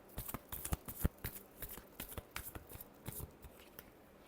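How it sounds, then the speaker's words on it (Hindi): Tarot cards are shuffled by hand close by, a fast, quiet patter of riffling snaps and soft slaps lasting a few seconds. "ये फरवरी महीने तक लास्ट शफल।"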